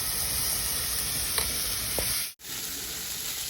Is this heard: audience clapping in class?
no